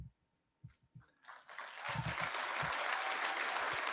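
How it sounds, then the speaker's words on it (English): A played recording of applause at the White House Correspondents' Dinner: a few low thumps and soft knocks, then clapping swells in and holds steady, moderately loud. "He even waits for the applause."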